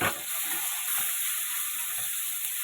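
Green chili, coriander and ginger-garlic paste frying in a pan, an even, close hiss and sizzle with a few soft scrapes of stirring.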